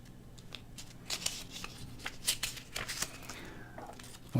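Small paper cards from a Kangertech Dripbox 160 box are handled, giving a string of soft, crisp rustles and flicks at uneven intervals, close and fairly quiet.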